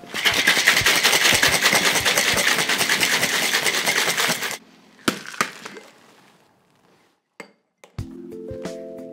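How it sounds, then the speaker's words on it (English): A cocktail shaker full of ice rattles hard and steadily for a strawberry gin fizz, stops after about four seconds, and is followed by scattered clinks and a ringing glass tap. "And then give it another good shake."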